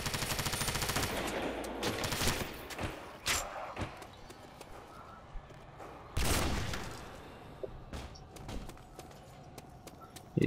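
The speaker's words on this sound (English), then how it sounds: "This gun shoots pretty fast." A fast-firing modded weapon in Call of Duty: World at War's Nacht der Untoten zombies map spits a long, rapid stream of shots at first, then scattered short bursts and single cracks with a second heavy volley later.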